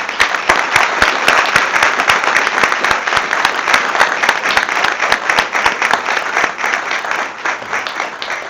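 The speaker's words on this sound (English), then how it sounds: "We should give a special round of applause for them." A council meeting audience gives a steady round of applause for firefighters and first responders, dense sustained clapping heard alone and at an even level for several seconds.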